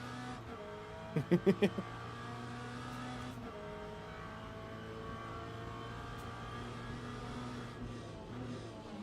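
Race cars in Le Mans Ultimate overtake with a steady, continuous engine drone and faint whooshes of cars passing, heard from inside the car, with a brief burst of rapid beeping tones near the start.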